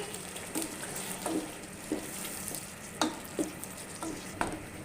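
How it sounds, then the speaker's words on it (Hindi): Boiled chickpeas are stirred into a sizzling masala in a pan, a low frying hiss running throughout with a spoon scraping in regular strokes roughly every half second to second. "अब मैं इसके अंदर बॉइल किए हुए चने डाल दूंगी और इसे अच्छे से मिक्स कर लूंगी।"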